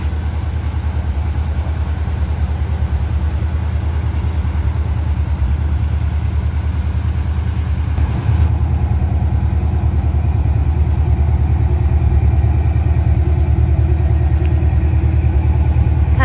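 A GM truck engine runs steadily, giving a loud, constant low rumble throughout with no change in pace.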